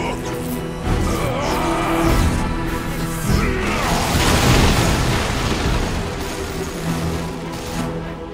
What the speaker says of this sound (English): he will hit it like the foot of an angry god, quite literally, by using the nuke-like Foot of Gork ability